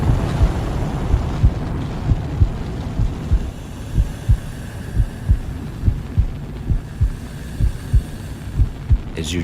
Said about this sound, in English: tune into your heartbeat.